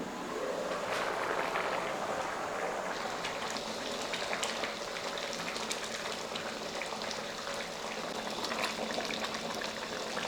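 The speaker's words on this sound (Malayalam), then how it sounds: "നല്ലപോലെ തിളയ്ക്കുന്നുണ്ട്." Rice for lemon rice boils in a pot, a steady soft bubbling and popping that stays faint and continuous, with no one talking.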